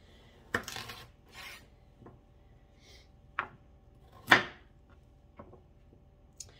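Knife slicing round vegetables in half on a cutting board, a few quiet, separate cuts and soft taps spaced out over several seconds with light rubbing between.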